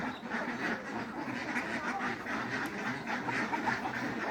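A flock of ducks quacking continuously and close by while being fed paddy and feed, overlapping calls forming a busy, steady chatter with no one speaking.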